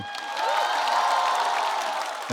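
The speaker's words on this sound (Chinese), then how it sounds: "鼓掌吧" A stand-up comedy audience breaks into steady applause with some cheering, a dense, even wash of clapping lasting a couple of seconds.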